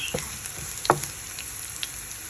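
Chilies fry in hot oil with onion and five-spice for a mash, a faint steady sizzle with a few sharp pops and spatters, close by and with no voices.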